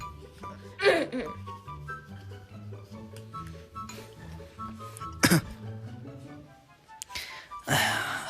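A nine-month-old baby coughing in bursts, a few harsh coughs and throat-clearing sounds spaced apart, close by, with soft voices and household sounds between them.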